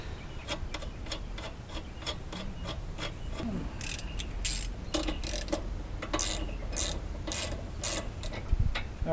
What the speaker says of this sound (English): we torqued this thing down to 70 foot-pounds using our 22mm socket.